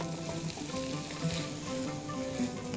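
Chopped onion frying in a hot pan as the base for Turkish shakshuka, a steady close sizzle with light crackle that continues without a break and with no talk.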